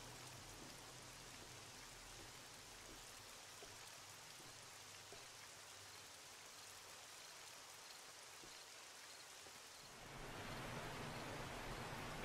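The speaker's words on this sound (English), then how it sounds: "just drizzling here on the road." Light rain drizzling down in the survival game 7 Days to Die, a steady soft hiss of patter on a road, low and even throughout, growing slightly louder and brighter near the end.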